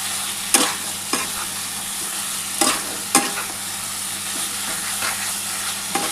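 Boiled mutton being stir-fried for mutton kosha in a pan: a continuous sizzle broken by several sharp scraping stirs of a spoon against the pan, close and fairly loud, with no talk.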